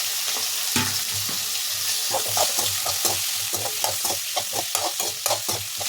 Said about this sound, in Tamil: இப்போ தக்காளி ஆட் பண்ணியாச்சு இதுக்கப்புறம் இது நல்லா வதங்கி வரணும்